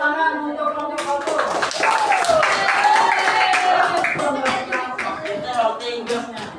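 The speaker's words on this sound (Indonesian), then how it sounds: "Tepuk tangan untuk kelompok satu." Classroom applause for a student group in an Indonesian school lesson, with a steady wash of clapping hands and children's voices chattering over it throughout, fairly close and moderately loud.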